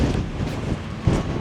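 Gusty wind buffets the microphone on a mountain bike trail near Bryce, Utah, with a low, rumbling roar that swells briefly near the end.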